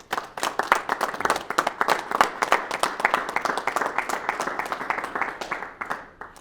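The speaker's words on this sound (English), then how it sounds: "Give yourselves a round of applause." An audience claps for several seconds at a Spartan Pledge event held by the Reno VA, a steady, dense patter of many hands at moderate level with no voices rising above it.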